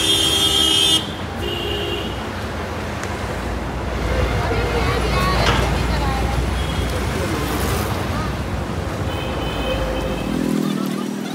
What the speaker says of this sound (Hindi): बहुत ट्रैफिक है।